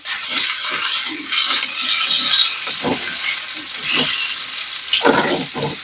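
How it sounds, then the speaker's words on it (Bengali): Cut pointed gourd with a little turmeric and salt half-frying in hot oil in a pan, a loud continuous sizzle broken by scraping stirs and clatter, with no voice. "পটলগুলোকে নিয়ে চলে একটু আধ ভাজা করে নেব"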